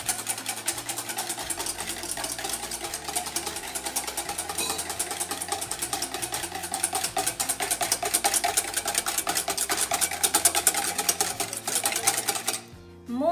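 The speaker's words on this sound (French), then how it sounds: "On refait le mélange." Egg, sugar, milk, vanilla sugar and nutmeg are mixed for French toast with a steady, whirring mechanical drone that runs nearly without pause, then cuts off abruptly near the end.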